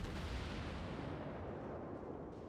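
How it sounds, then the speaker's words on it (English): Heavy cruiser Atago in World of Warships firing its rear gun turrets: a loud, broad low rumbling boom that swells at once and decays slowly over a couple of seconds, with no talking. "And fire my back guns, of course."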